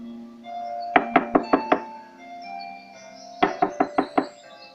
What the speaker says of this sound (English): knocked at the door